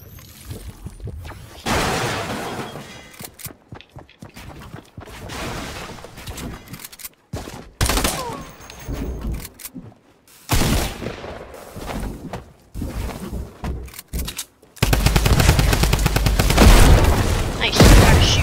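Loud video game gunfire in bursts, booming shots and rapid fire crowding the scene, broken by short gaps and a heavy sustained barrage at the end, with players talking over it.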